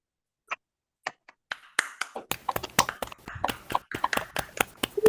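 An online conference audience unmuting to applaud a keynote speaker: a few isolated claps at first, then denser, overlapping clapping that builds over a few seconds, thin and uneven as it comes through many separate call microphones.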